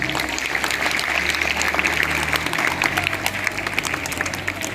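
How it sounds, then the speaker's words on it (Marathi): Dense audience applause at a Republic Day school event, a continuous crackling wash of many hands clapping, steady and fairly loud from start to finish. "आपण सर्वांनी जोरदार टाळ्या वाजवा"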